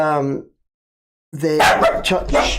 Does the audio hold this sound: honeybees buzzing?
no